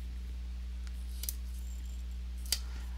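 Scissors snip excess material off a miniature being based at a hobby workbench, giving two faint, brief cuts about a second apart over a steady low hum.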